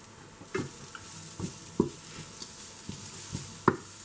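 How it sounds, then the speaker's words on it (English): Bitter gourd pieces shallow frying in a pan, with a low steady sizzle broken by several sharp scraping stirs of a spatula at irregular intervals. "Cook this for another 2 to 3 minutes and bitter gourd fry is ready."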